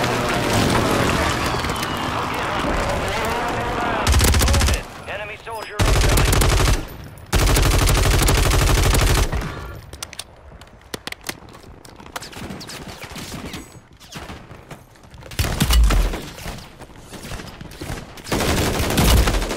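Gunfire in a Call of Duty Modern Warfare III Warzone match, repeated bursts and scattered shots mixed with loud in-game effects and voice chatter, the intensity rising and falling throughout.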